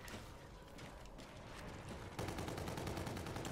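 Rapid automatic gunfire from the OSA gun in a shooter video game, a dense stream of shots that grows louder and more regular midway through, with no talk over it.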